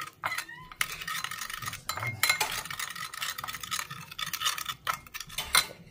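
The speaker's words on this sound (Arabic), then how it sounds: "وغادي نخلط هاد لاصوص هادي ونخليها على جنب" Utensil stirring and mixing a sauce of salt and pepper in a bowl, with repeated clinking and scraping strokes, close and moderately loud, with no voices.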